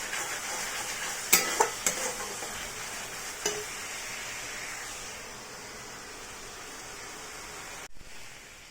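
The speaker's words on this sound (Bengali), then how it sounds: "আর এদিকে হচ্ছে মশলা কষানো।" Masala fries in a pan with a bright, close sizzle and several sharp scraping stirs early on, then settles into a quieter, even hiss before a brief clunk near the end.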